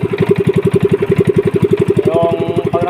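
A small fishing boat engine starts and runs close by at a steady idle, its rapid, even chugging pulses holding a regular rhythm throughout.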